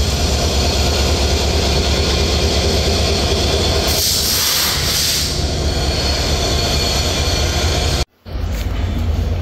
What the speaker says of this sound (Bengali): অলরেডি লোকোমোটিভের হর্ন দিয়ে ছেড়ে যাচ্ছে আমাদের সাগরদাড়ি এক্সপ্রেস